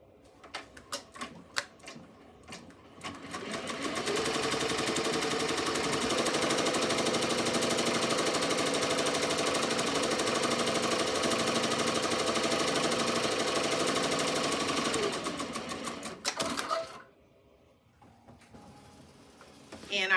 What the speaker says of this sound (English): now we are going to make our placement stitch for our butterfly